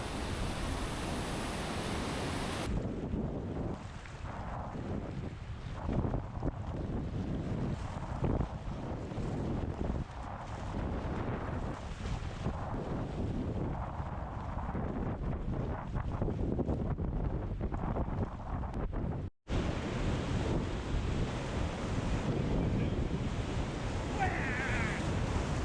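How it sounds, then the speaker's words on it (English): Loud, continuous rush of whitewater as a raft runs Class 3 rapids on the Middle Fork of the Salmon River in Idaho, with heavy wind buffeting the microphone throughout and a brief dropout near the end. "a lot of these fun, easy Class 3 rapids"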